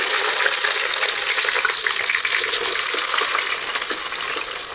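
Chopped red onion pieces go into hot oil already seasoned with cumin and fry with a loud, dense, continuous sizzle, close up and steady throughout, with no speech.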